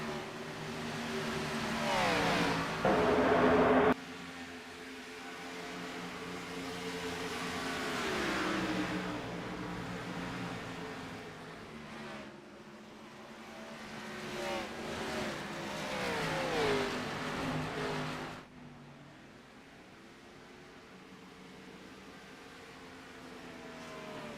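Several race car engines in a video game roar and rev past on an oval track, pitches sweeping up and down as the cars pass, a steady mid-distance engine drone throughout.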